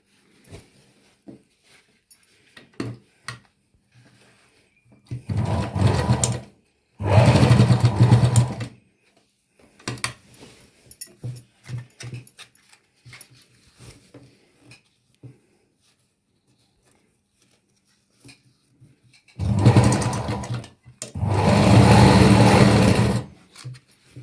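A sewing machine stitches a folded lehenga waistband onto canvas, running in several loud bursts of steady whirring, two short runs early and two longer ones near the end, with quieter handling sounds and pauses between.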